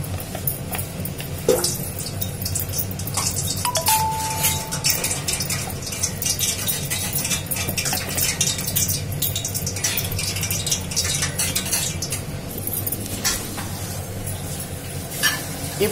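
Raw banana vada ingredients are stirred and mashed together in a bowl, giving continuous wet squelching and scraping with light clinks of a utensil against the bowl, close and steady throughout.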